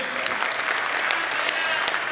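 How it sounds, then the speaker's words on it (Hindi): Audience applause for Hemant Pandey rises in a dense, steady wash of many hands clapping at once, filling the whole stretch at an even loudness with no break. "एक बार जोरदार तालियां हेमंत पांडे के लिए"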